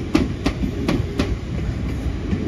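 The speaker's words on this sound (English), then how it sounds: "there goes the 1032 London Northwestern Railway service to Liverpool Lime Street from Birmingham New Street" A London Northwestern Railway Class 350 electric unit moves through Crewe station on a Birmingham New Street to Liverpool Lime Street service. Its wheels beat a steady clickety-clack of evenly spaced rail-joint clicks over a continuous low rumble, close and fairly loud.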